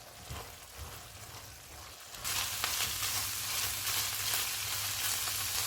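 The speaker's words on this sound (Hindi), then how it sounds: "चूल्हे को मीडियम कर देते हैं और इसको 4 से 5 मिनट तक भूनेंगे।" Minced meat (keema) fries in a pan over a medium flame, a constant dense sizzle that jumps louder partway through and then holds steady, close and unbroken.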